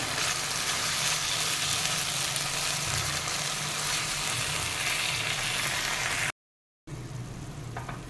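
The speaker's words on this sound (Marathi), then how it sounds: "टॉमॅटोला तेल सुटेपर्यंत आपण ही छान परतून घेऊया" Tomato puree sautés in hot oil in a pan, giving a loud, continuous close sizzle and bubbling hiss that runs steadily, then cuts out briefly near the end before resuming.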